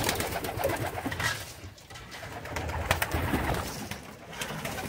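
Tippler and long-faced tumbler pigeons coo steadily at a pigeon show, a dense murmur of overlapping soft coos with rustling background.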